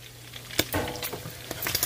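Bacon fries in a pan with a close, steady hiss broken by quick scraping clatters as it is stirred.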